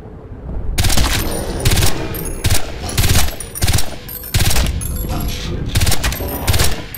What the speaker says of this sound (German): Baller hier einen Schuss nach dem anderen und treffen nix